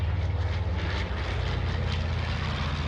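A vintage World War II propeller plane flies past, a loud steady engine drone with low throbbing pulses that holds throughout with no talk.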